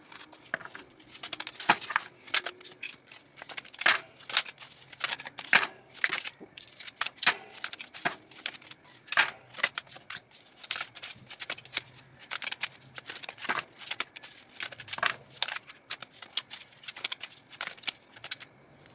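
Tarot cards shuffled and drawn by hand, giving a steady run of crisp riffles, flicks and soft slaps of card stock, close up and moderately quiet, with no talk over it.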